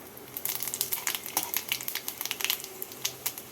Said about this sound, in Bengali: তেলটা ভালো মতো গরম হয়ে গেছে এবার এর মধ্যে ফোড়নে দিচ্ছি একটা শুকনো লঙ্কা আর দিচ্ছি এক টিস্পুন পাঁচ ফোড়ন